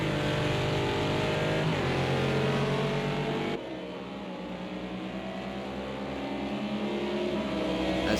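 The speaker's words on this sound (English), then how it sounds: "we got one of the Porsches coming on through as well" Race cars roaring through a Porsche overtake at Monza in a six-hour endurance racing video game, a loud steady engine drone that drops abruptly to a lower, quieter tone partway through.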